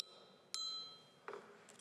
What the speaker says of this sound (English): When your time is up, I will use this bell